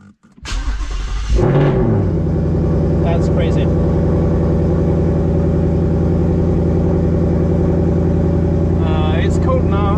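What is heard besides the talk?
car engine starting and idling when cold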